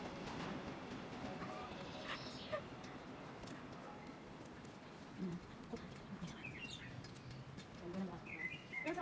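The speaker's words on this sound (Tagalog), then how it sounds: "Masarap lang makinig ng huni ng ibon." Birds chirp and tweet in short bursts against a faint rumbling background, with a few scattered calls near and far over quiet ambient noise.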